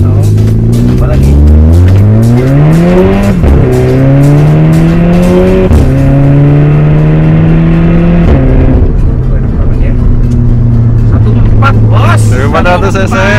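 A VW Golf MK6 TSI turbo engine with a custom muffler accelerates hard, revving up through several gears with rising pitch and loud exhaust, close by, while people talk over it.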